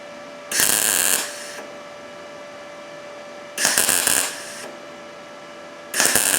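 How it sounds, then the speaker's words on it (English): An Arccaptain MIG 200 welder laying short spot welds, three brief bursts of crackling, buzzing arc about three seconds apart over a steady machine hum. "It does a short spot weld."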